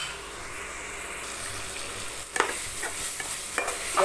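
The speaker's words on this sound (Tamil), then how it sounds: "கொஞ்ச நேரம் அப்படியே வதங்கிட்டேன்" Steady sizzling from onions sautéing in a pan, with a few brief clinks of a utensil stirring near the end. No one speaks.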